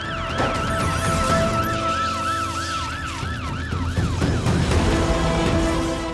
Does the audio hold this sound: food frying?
no